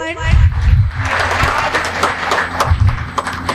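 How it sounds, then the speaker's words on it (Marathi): An audience at an adult literacy graduation ceremony claps together, a loud, dense patter of hands lasting a few seconds with a voice speaking over it at the start and end. "सगळ्यांनी टाळ्या वाजवूया आपण"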